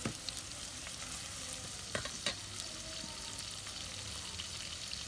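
Medium-sized onions, about 125 grams with a little salt, sizzle steadily in a pan as they fry toward golden brown, a continuous broadband crackle with a few brief stirring clatters, fairly quiet and with no talk.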